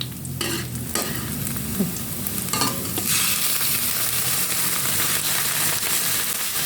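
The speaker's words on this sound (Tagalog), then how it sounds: "Lagay na po natin ang chicken trimmings." Chicken trimmings dropped into hot oil for pancit canton, bursting into a loud, continuous sizzle and crackle up close, with scraping stirs of a utensil in the pan over the first few seconds.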